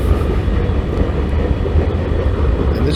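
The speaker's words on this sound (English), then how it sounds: "this train is actually picking up speed" CSX freight train on the ANB line near a busy rail yard, picking up speed: a steady, loud low rumble and rolling clatter of wagons passing close by, continuous with no talk.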